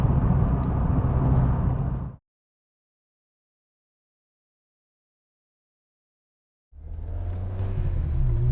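A Renault Clio Williams 3 hot hatchback's engine roars loudly for about two seconds, then cuts to complete silence, and the heavy engine drone returns near the end.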